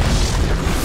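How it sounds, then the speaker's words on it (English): A tower collapses in the video game Dota 2 with a loud, dense boom that rumbles continuously through the brief moment, deep and forceful, with no voices over it. "Dire's bottom tower has fallen."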